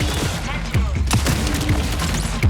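Heavy gun fire from Vandal's unfolding arm cannon in the video game Marathon: loud booming blasts and mechanical thumps packed into a dense, continuous barrage, with no speech.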